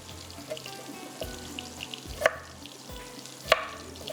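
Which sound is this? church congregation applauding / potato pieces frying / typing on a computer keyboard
potato pieces frying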